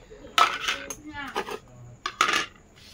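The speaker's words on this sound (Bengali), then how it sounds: "এই প্লেট ধোয়া বৌদি।" Plates are being washed by hand, their ceramic surfaces clattering and clinking together in a few bright bursts spread over a few seconds, close and fairly clear.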